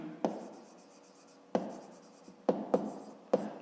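Pen or pencil writing in a school notebook during a math exercise, a few short scratchy strokes close by in a quiet room, with no talking.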